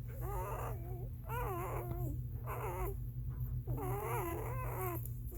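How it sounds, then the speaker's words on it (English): Six puppies whimper and squeal in repeated high, wavering bursts, close by, over a steady low hum. "You little guys are noisy. 6 puppies."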